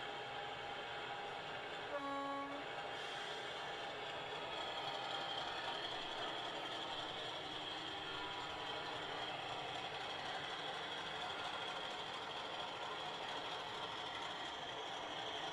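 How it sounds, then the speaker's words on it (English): A model railway locomotive shunts in a continuous mechanical running hum with rail clatter, and a brief horn-like tonal blast sounds near the start. "We're getting a lot of shunting in tonight."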